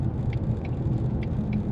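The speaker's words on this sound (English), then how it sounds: "Nice exhaust tones inside the car." A low, steady V8 exhaust rumble from a stock Ford Mustang GT fills the car interior, with faint rattles ticking now and then.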